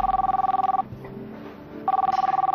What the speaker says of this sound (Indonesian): Boleh saya angkat telepon ya?